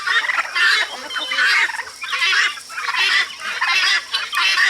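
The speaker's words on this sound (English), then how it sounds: "This is my Tom turkey." Tom turkey gobbling on a farm, a loud close run of repeated rattling gobbles in rhythmic bursts, one after another.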